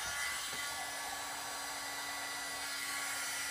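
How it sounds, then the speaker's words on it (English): A heat gun embossing tool running at close range, a steady airy blowing whir with a constant motor hum, uninterrupted and without talk. "we're going to take our heat gun, our embossing tool, give it a second to heat up"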